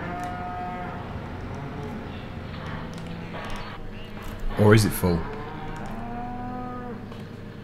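Cattle moo in Farming Simulator 17 on the Ballincraig Estate farm near a cow trough, one loud drawn-out low call rising mid-clip over a background of game noise while someone talks.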